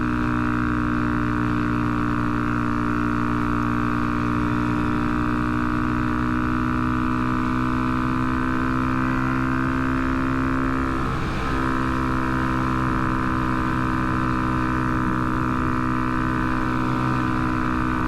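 A Honda Grom motorcycle engine idles loud and steady nearby, a constant droning hum with a brief rise in pitch partway through.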